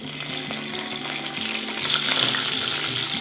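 Oil sizzles loudly and steadily in a pan as curry leaves are sautéed for a Tamil fish curry (meen kuzhambu), a continuous frying hiss that swells slightly toward the end.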